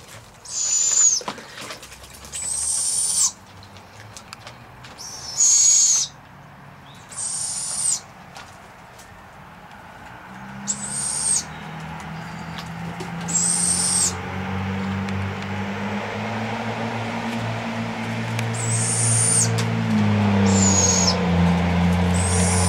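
Young barred owls calling in a string of short, loud, raspy hisses and screeches between pauses, later joined by splashing and wing-flapping as they bathe, with a low continuous rumble building underneath.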